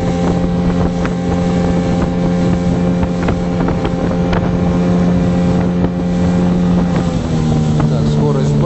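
Motorboat engine drones steadily and loudly on the sea in the Peter the Great Gulf, a constant low hum with wind buffeting the microphone, the pitch dropping slightly near the end as the boat slows.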